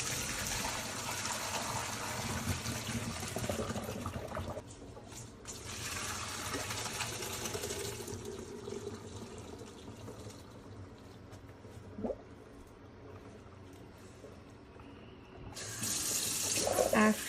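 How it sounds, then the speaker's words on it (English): Boiled elbow pasta drained in a kitchen sink, with water gushing and splashing loudly in bursts, pausing briefly, then returning with a strong rush near the end. "you're going to drain it."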